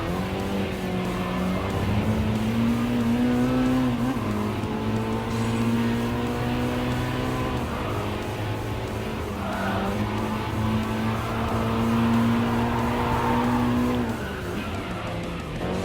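Race cars in Gran Turismo Sport hold a steady engine drone through a chicane, with pitch dipping and rising as the cars brake and accelerate, plus faint tire squeal and no talking.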